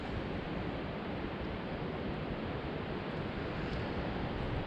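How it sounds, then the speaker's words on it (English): Steady broadband rush of strong wind buffeting the microphone, constant and unbroken throughout, no voices. "You can hear it. It's still really windy."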